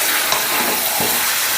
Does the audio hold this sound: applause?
no